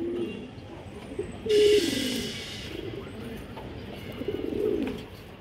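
A red khaki female pigeon gives low throaty coos near the mic, with a brief burst of noise partway through and soft rumbling calls after it.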